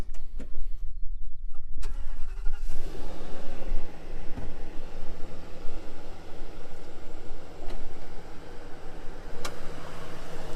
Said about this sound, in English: All right, Kevin, let's start that motor up, show them this brand new engine